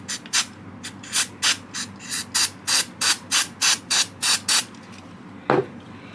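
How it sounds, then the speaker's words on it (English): Contact cleaner sprayed onto the crud-covered commutator plate of a Lionel 248 boxcab model locomotive: a close, steady run of about a dozen short, rhythmic hissing bursts, then a single soft knock near the end. "Spray a little bit of contact cleaner."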